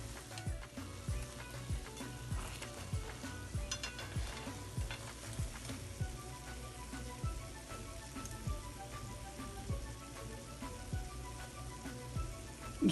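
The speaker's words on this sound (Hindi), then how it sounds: "अभी नहीं हुए देखे तो फिर हम इनको निकाल के दूसरे भी फ्राई कर लेंगे" Bread slices frying in ghee for shahi tukray crackle with a steady, soft sizzle and occasional stirring clicks, close and low in level with no voices.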